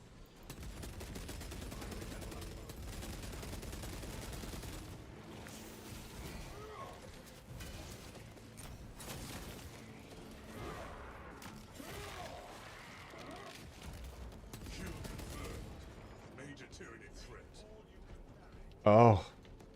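Barrage grenades go off in the Warhammer game Space Marine 2 amid rapid, sustained bursts of gunfire and blasts, a dense noisy wall of combat with voices talking over it and one sharp loud burst near the end.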